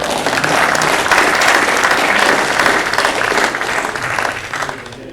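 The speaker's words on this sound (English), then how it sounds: "Shall we applaud now?" An audience at a colloquium claps loudly and steadily for several seconds after a talk, a dense even applause that gradually tapers off toward the end.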